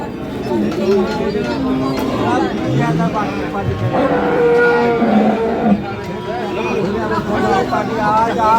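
Cattle at the Kaharol market moo repeatedly, loud and close, over a dense crowd babble with people talking nearby throughout.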